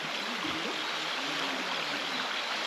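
A bush creek swollen after rain rushes steadily, with a constant broadband roar of flowing water, close and continuous.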